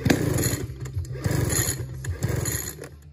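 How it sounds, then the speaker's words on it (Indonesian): A Meridian 43cc gasoline engine on an RC plane runs close by with a rough, pulsing buzz that rises and dips as the throttle changes, loud and steady throughout. "namun dengan sedikit skill dari Mas Adrian untuk menyeting karbu maka engine ini berhasil untuk dihidupkan"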